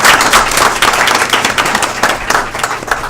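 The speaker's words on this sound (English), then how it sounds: "we're going to give you another round of applause" A roomful of people at a school board meeting bursts into loud, dense applause close by, a steady wash of clapping that holds for a few seconds.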